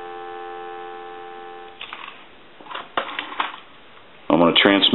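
A steady dial tone from a UK rotary desk telephone handset hums for nearly two seconds, then gives way to handling clicks and a voice speaking.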